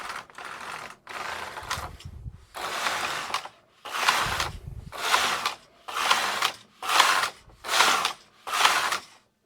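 Knitting machine carriage sliding back and forth across the needle bed to knit ribbing rows, a steady run of about nine broad mechanical swishes with short pauses between passes, close and fairly loud with no talking.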